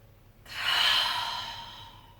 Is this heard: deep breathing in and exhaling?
yes